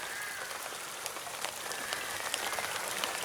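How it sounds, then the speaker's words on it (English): Steady rain patters on a surface at a lakeside carp fishing session, a dense continuous hiss with scattered sharper drops, moderately loud and unbroken, with no voices. "And this rain wasn't forecast"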